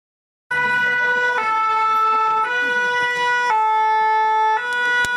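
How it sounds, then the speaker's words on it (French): Emergency vehicle siren at a road safety demonstration in Veigné, May 2011: a loud, close two-tone wail alternating steadily between high and low pitches, running continuously. "Le premier véhicule de secours, il s'arrête avant"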